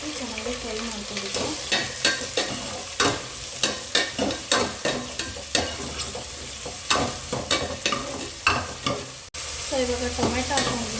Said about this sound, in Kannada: ಬೆಳ್ಳುಳ್ಳಿ ಮತ್ತು ಈರುಳ್ಳಿ ಹಾಕಿ ಚೆನ್ನಾಗಿ ಫ್ರೈ ಮಾಡ್ಕೊಬೇಕು.